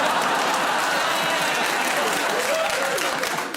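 A studio audience at a radio panel game applauds loudly and continuously, a dense wash of clapping that holds steady from start to finish.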